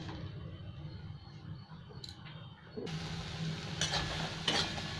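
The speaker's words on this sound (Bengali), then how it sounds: "এবার এই টমেটো গলে গেলে তারপরে আমি জল দেবো। ভাজতে থাকি এখন।" Tomato and spices frying in oil in a pan for a Bengali fish curry, a soft low sizzle with light stirring that grows a little louder partway through, fairly faint, no talking.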